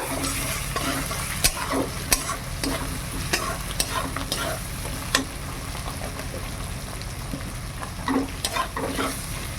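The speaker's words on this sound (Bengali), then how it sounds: "মশলাটা খুব সুন্দর ভাজা হয়ে গেছে।" A spice mix with Kashmiri red chilli sizzles and fries in a pan for a fish-head moong dal, with steady crackling and repeated stirring scrapes and no talking.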